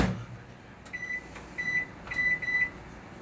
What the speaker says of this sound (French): je l'envoie 15 minutes au micro-ondes